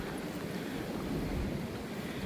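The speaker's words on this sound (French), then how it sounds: "plus on monte, plus le vent se lève" Steady wind buffeting the microphone, a continuous low rumbling rush with no voices, at an elevated spot in Suisse Normande, Normandy.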